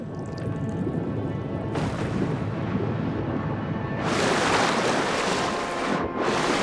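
Rushing river rapids in the fantasy video game Avowed, a steady broad wash of water that swells louder and brighter partway through, with no talk over it.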